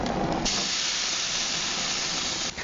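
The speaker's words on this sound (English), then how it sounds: "Throw this puppy on the grill. Sizzle." A veggie burger sizzles on a grill as fat drips into the flames, a steady loud hiss that starts sharply after a brief lower rumble and holds throughout without any talking.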